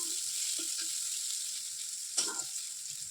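Spices sizzle in hot oil for tempering dal, a steady soft hiss with a few brief pops and one sharper crackle burst near the end, fairly quiet and without talk.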